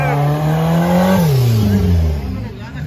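A VW Gol race car accelerates hard down a drag strip, its engine rising in a loud, close whine, dropping in pitch once as it shifts gear, then pulling again as it fades slightly.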